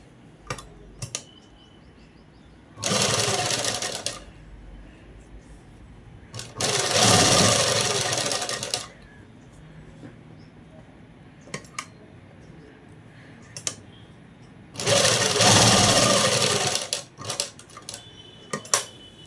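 A sewing machine stitches kalamkari dress fabric in three distinct bursts of rapid, whirring stitching, each lasting a few seconds and separated by quieter pauses with small clicks and fabric handling.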